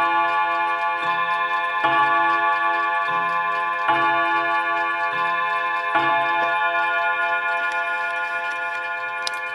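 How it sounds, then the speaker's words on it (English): A 1950s Mauthe mantel clock chimes the half hour, its clear bell-like tones ringing out in sequence over a steady, close tick-tock, with no talking. "we'll do two notes signaling the half hour"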